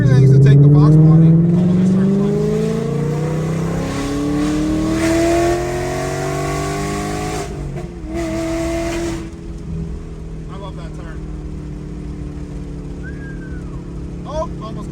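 A Ford Mustang Dark Horse engine revs hard and accelerates, its rising harmonic roar sweeping upward through several gears before easing off into a lower steady drone with some background noise.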